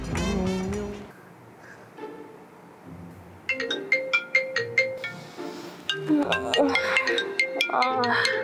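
A phone ringtone rings late at night, a bright repeating melodic pattern chiming in a steady rhythm close by, following brief talk and growing louder and denser toward the end.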